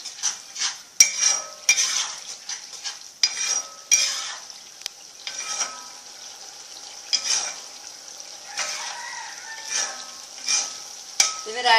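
Potatoes and tomato sauce stirred in a pan, with a spoon scraping and clinking against the metal in irregular strokes over a soft, steady sizzle; close and moderately loud, with no talking.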